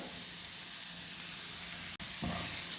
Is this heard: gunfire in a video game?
no